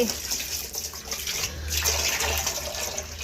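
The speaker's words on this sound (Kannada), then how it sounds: "ಈಗ ಇವು ನೀರು ಚೆಲ್ತೀನಿ ರೀ ನಾನು" Water pouring out of a barrel being emptied for cleaning, a steady broad splashing rush that swells louder in the second half, close by with no talk over it.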